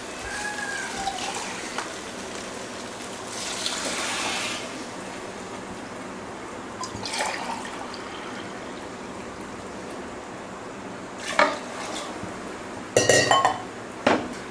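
Water splashes into a pot of rice and masala for mutton biryani, with a short pouring rush and scattered clinks of metal utensils and pots at close range.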